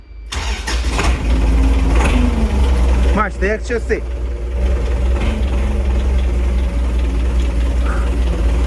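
A loud diesel engine of an MTZ 82.1 tractor cranks and catches, then settles into a steady low rumbling idle; someone speaks briefly over it.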